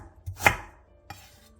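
A few sharp knife chops through green chili peppers and ginger on a cutting board, one louder strike followed by a lighter one a moment later, close and otherwise quiet.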